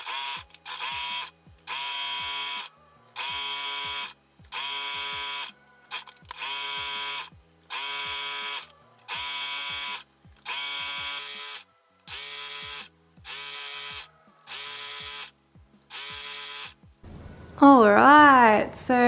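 A sewing machine stitches scrunchies in about a dozen regular bursts of steady whirring, each a second or so long and separated by brief pauses. A louder wavering tone comes at the very end.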